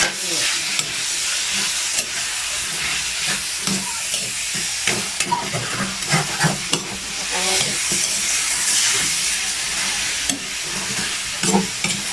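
Chicken being stirred in a hot frying pan with pepper, sizzling and hissing steadily throughout with scraping stir strokes, close and fairly loud, no talk.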